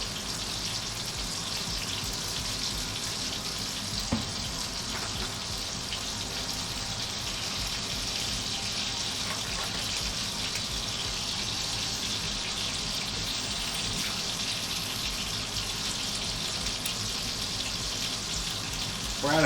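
Water runs from a kitchen tap in a steady, continuous hiss, moderately close and alone, with a few faint clinks near the end.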